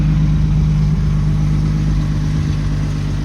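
A 1971 Datsun 240Z Series I coupe engine idling just after a cold start on a very cold day, a steady, loud, low rumble with a constant hum and no revving, close by.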